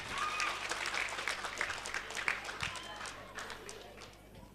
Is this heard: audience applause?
yes